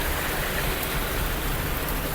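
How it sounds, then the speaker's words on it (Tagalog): Heavy rain pours in a steady, dense, loud wash of noise that fills the whole stretch without pauses or talking. "Grabe, ang lakas ng ulan."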